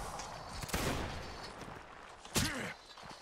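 A Napoleonic reenactment infantry company fires a musket volley outdoors as two loud, ragged bursts of overlapping shots with a rumbling roll after each, heard amid wind and faint distant voices.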